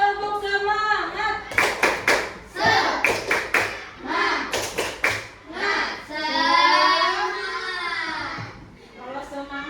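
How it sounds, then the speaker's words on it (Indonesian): A primary school class does a rhythmic 'tepuk semangat' clap led by the teacher. Sharp patterned hand claps come in quick clusters, mixed with children chanting and a teacher's voice throughout. "Kita tepuk semangat bareng"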